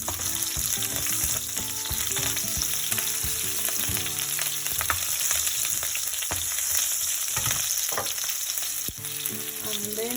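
Cumin seeds, curry leaves and chilies sizzle in hot oil with a continuous close frying hiss, crackling pops and a few utensil clicks.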